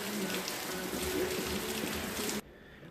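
Rain falls steadily on a rainy day, an even hiss of drops on surfaces that cuts off abruptly near the end, leaving near silence.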